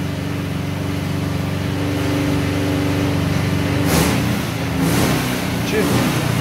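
A ZAZ-968M Zaporozhets car engine idles steadily with a low, even rumble, close and continuous, joined briefly by a couple of louder bursts late on as it is revved slightly.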